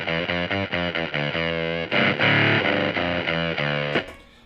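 A harsh, buzzy fuzz tone from an Empress ZOIA patch, with an octave multiplier doubling it high, plays a quick run of choppy notes, then a longer chord, and ends in a brief noisy tail.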